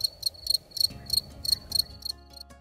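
A cricket chirping in short, regular bursts of bright, high trills, about seven pulses repeated steadily, clear and close with a faint low background hum.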